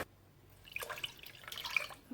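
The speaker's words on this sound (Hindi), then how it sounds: "और इसी कप से हम 3 कप पानी डालेंगे।" Water is poured from a cup into a pan of sugar to make syrup for rasmalai: soft, faint splashing and trickling in two short bursts, with no talk.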